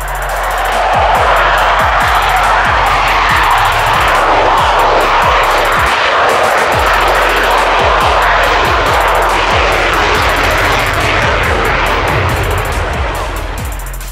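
A Rafale fighter jet flies over France with a loud, sustained roaring engine wash that stays heavy throughout, without a break and with no speech.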